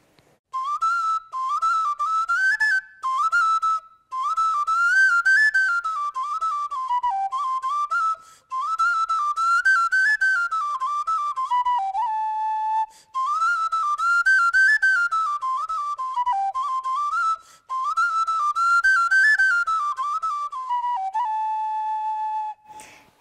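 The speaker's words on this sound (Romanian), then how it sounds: "Și ciobănașul cânta într-adevăr foarte frumos" A solo Romanian shepherd's folk flute plays a lilting, ornamented melody in phrases with short breaths between them, close and clear, with no voices.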